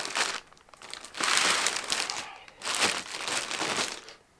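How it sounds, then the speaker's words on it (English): A plastic bag crinkles loudly while Focal Utopia IWLCR in-wall speakers are pulled from their packaging, in bursts of close rustling with short pauses between handling movements. "And we'll get it out of the plastic bag."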